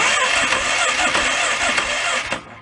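A Polaris 335 Sportsman ATV engine cranks over steadily for about two seconds, a loud continuous churning starter whir that cuts off near the end, with no talking.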